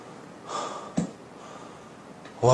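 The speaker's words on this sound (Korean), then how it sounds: "와, 숨이 헐떡차네." A golfer breathes heavily after golf swing speed training, with a few sharp panting gasps and snorting breaths close up, separated by quieter pauses and ending on a louder exhale.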